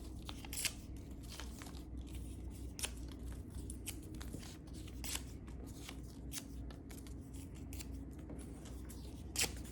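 Paper torn in half by hand during a hand and finger dexterity exercise: repeated crisp ripping and rustling bursts, close and fairly loud, spread across the clip over a steady background hiss.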